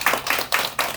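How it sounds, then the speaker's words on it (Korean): A group clapping at a neighbourhood launch ceremony in Yaksu-dong, coming in several bursts of fairly loud hand claps over about a second, with no talking. "먼저 김면호 우리 약수동 대표님을 박수로 모시고"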